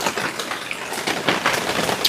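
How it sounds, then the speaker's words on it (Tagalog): Heavy rain on a mountainside pours down in a dense, steady hiss of drops pattering on surfaces, close and fairly loud throughout. "Palakas na ho ng palakas yung ulan"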